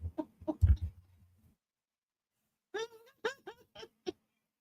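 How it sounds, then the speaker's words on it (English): Chickens clucking nearby in short, choppy bursts, with a few low muffled sounds at the start and a gap of silence before a run of sharp clucks. "Chickens love me."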